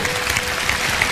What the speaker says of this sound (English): So I thank you for your applause.